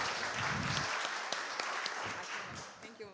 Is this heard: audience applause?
yes